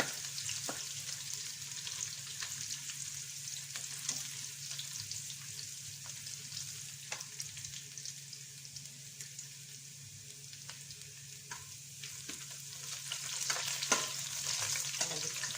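Chopped garlic and ginger frying in a pan for a bottle gourd curry, a continuous soft sizzle with occasional scraping stirs, close but fairly quiet, with no voices.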